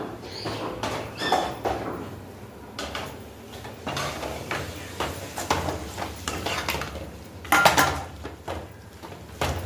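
Chicken is added to masala gravy in a cooking pan, with scattered clinks and clatters of a utensil against the pan, close by and irregular.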